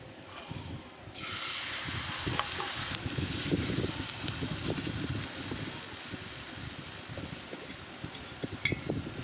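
White cooking oil sizzles and hisses in a hot nonstick pan, a steady close crackle that starts abruptly and holds with small pops through to the end.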